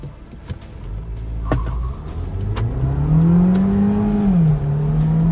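VW Virtus GT sedans launching in a drag race, one manual and one DSG, with an engine revving hard and pitch climbing steadily through the gears over several seconds, loud and close with no talk.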